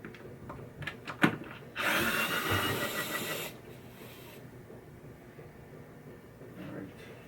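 A power drill backs a screw out of the head of a 1985 Williams Comet pinball cabinet, a loud whirring burst of about two seconds, close by, after some handling knocks and followed by quieter room noise.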